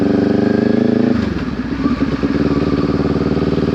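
Kawasaki Ninja 400 motorcycle engine running steadily in first gear, then dropping in pitch as the throttle rolls off and it shifts into second, heard up close and loud from the rider's position.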